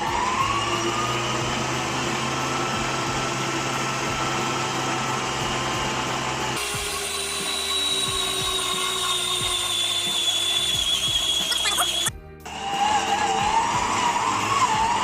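A stand mixer kneads sandwich-loaf bread dough at low speed, speed 1 to 2, with a loud, continuous motor whine throughout. The tone shifts partway through and drops out briefly near the end before resuming.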